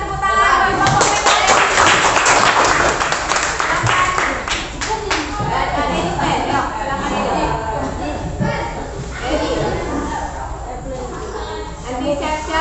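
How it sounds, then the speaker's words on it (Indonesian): Students in a classroom clap their hands together in a loud, dense burst that gradually thins out, with children's voices and chatter mixed in. "silakan tepuk tangan buat kelompok Monika."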